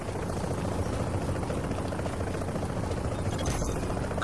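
A helicopter in the video game The Division hovers steadily, its rotor thrumming as a constant loud drone with no pauses and no talk.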